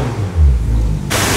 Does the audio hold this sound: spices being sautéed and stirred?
no